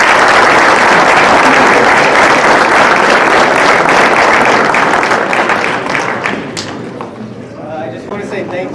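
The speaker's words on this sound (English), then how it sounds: "So big round of applause for Noah SanMiguel" Loud applause and cheering at a high school athlete's college signing event for the Sonora Broncos, a dense roar of clapping that holds for several seconds, then thins out into scattered claps and voices.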